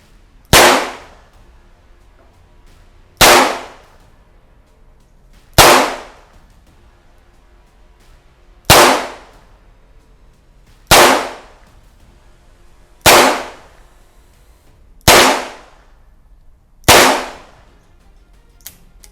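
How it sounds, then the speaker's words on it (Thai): Eight sharp, loud shots from a Taurus 942 revolver fired double action at a range, spaced about two seconds apart with brief echoing tails and quiet between. "ทดสอบตัวเทารัด942นะครับ ยิงแบบดับเบิลแอคชั่นนะครับ เต็มความจุของโม่เลย"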